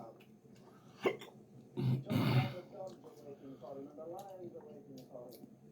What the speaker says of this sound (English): I had hiccups from it.